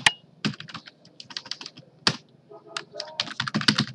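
Rapid clattering keystrokes on a computer keyboard, close and busy in quick uneven bursts with a few sharper key hits, while code is entered on a computer.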